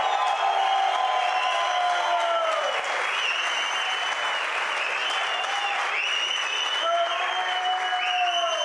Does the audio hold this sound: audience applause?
yes